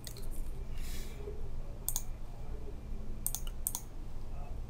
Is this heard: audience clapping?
no